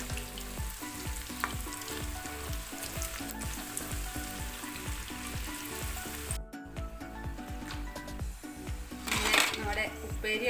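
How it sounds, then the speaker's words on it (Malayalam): Banana slices deep-fry in hot oil, a loud, dense bubbling sizzle that runs throughout, with occasional clinks of a utensil against the pan and a burst of stronger crackling near the end. "ബാക്കിയുള്ളത് നമുക്കതുപോലെ തന്നെ വറുത്തെടുക്കാം."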